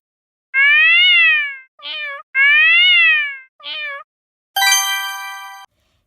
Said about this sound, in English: It's a cat meowing.